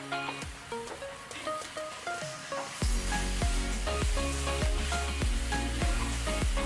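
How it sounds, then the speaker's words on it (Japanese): Bananas dropped into hot caramel with cream in a pan over medium heat bring a sudden loud sizzle that keeps bubbling steadily, with rhythmic stirring knocks throughout and no speech. "そしたらここにバナナを一気に加えていきます。"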